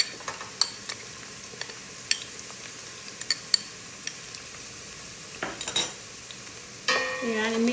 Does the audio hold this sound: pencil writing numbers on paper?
no